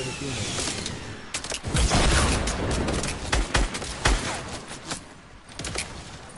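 Fortnite video game gunfire crackles in rapid bursts and single sharp shots with mechanical clicks, loud and close, while a voice talks over parts of the action.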